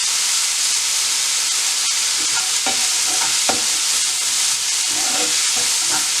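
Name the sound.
onions sautéing in a pan over low heat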